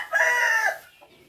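A single drawn-out hen call, close and clear, rising briefly and fading into quiet.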